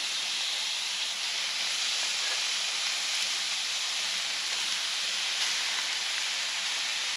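Food sizzling in a hot cast iron skillet over medium-low heat, a steady, unbroken hiss that stays close and even from start to finish, with no voices.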